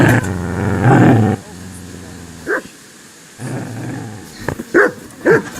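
In the medieval video game Kingdom Come: Deliverance, a dog growls and barks in loud bursts, with short snarls and yelps between them.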